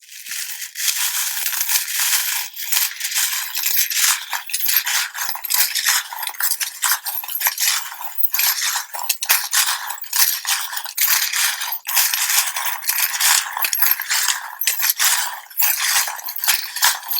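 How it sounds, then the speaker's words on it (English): Tarot charms rattling and clinking as they are cast, a continuous bright jangle of small metal pieces tumbling and tapping together, close and fairly loud throughout without talk. "if you think you won't like the sound of the charms. They can be very loud."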